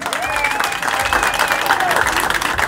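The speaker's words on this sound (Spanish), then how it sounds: "Al comandante García Ligot. Un comandante extraordinario. Un aplauso para él" An audience applauds the commander at a Christmas tree lighting in Sosúa, with dense clapping and crowd noise under a sustained tonal sound, likely music.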